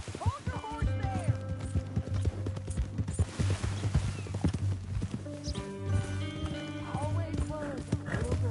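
Horse hooves clip-clop steadily at a walking pace in Red Dead Redemption 2, with occasional snorts and whinnies while characters talk over the rhythmic hoofbeats.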